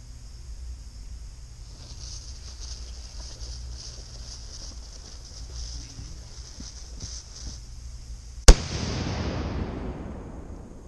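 A tiny cannon fires once with a single sharp, loud bang and a short decaying rumble, coming after several seconds of steady outdoor background noise.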